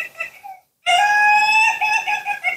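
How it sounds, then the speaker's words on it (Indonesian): A chicken calls out with a short squawk, then after a brief pause lets out a long, loud, drawn-out crow-like cry close by. "kamu dengar suara ayam itu enjoy, happy"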